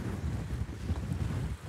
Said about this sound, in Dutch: Veel wind.